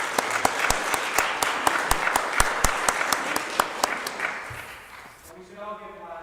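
Audience applause at a Sunday morning adult education gathering, a steady patter of many hands clapping with some sharper individual claps, fading out near the end as a voice begins speaking.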